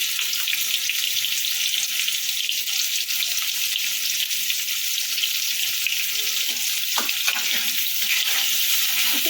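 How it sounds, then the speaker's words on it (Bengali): Potatoes frying in hot oil with turmeric and salt for Kashmiri dum aloo, a constant loud broadband sizzle that holds evenly throughout with a few brief scrapes near the end. "আলুগুলো লাল লাল করে ভাজা হয়ে গেছে"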